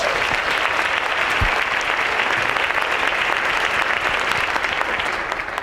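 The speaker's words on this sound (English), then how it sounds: "Give these ladies a round of applause." A crowd at a chamber of commerce women's forum keynote claps in sustained, dense applause, loud and steady for several seconds, with a few faint voices mixed in.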